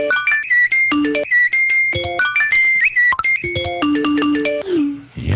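A rapid jumble of phone ringtones and message alert chimes, many short tonal bleeps and melodic tones overlapping one after another, loud and close with no talking.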